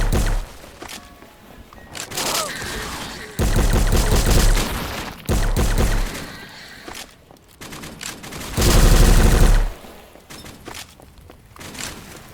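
M60 machine gun firing in the video game Those Who Remain, several loud sustained automatic bursts separated by quieter pauses, close and punchy.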